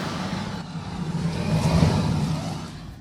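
Tractor engine working a field during spring sowing in Sumy region, Ukraine, a steady, moderately loud mechanical rumble that swells slightly midway and then eases off.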